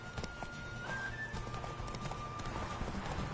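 Horse galloping in the video game Witcher 3, a rapid drumming of hoofbeats under ambient game sound and faint tonal music, moderately quiet throughout.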